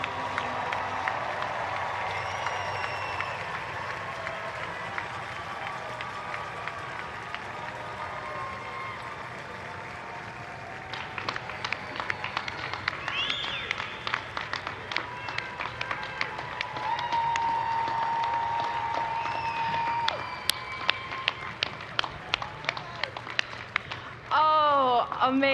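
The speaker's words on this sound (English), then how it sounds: "Let's give all our graduates a big round of applause." Crowd applause for graduates at a law school spring commencement ceremony, sustained clapping spread through a large hall with some cheering, while a speaker's voice carries on over the clapping.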